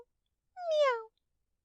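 A kitten meows once, a single clear drawn-out cry standing alone against silence.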